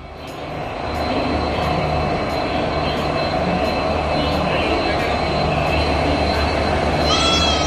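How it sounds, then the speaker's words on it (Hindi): A train pulling into New Delhi railway station, a steady loud rumble of rail wagons and platform bustle with voices talking, a brief high squeal near the end. "ट्रेन हमारी आ गई है"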